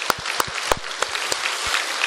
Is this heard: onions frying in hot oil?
no